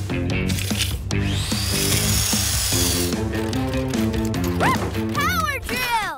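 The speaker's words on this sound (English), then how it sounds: "Power drill!" A cartoon power drill whirs in a busy, loud scene with music underneath, brief whirring bursts among bouncy melody and a high squeaky voice near the end.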